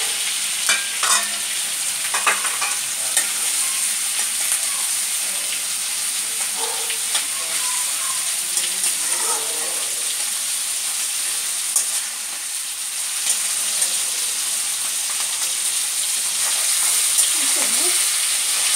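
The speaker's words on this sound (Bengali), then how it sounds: "এবার চিংড়িগুলো সাঁতরে নেওয়া হচ্ছে।" Prawns fry in hot oil seasoned with salt and turmeric, giving a steady close sizzle with stirring scrapes and crackles throughout, no voices heard.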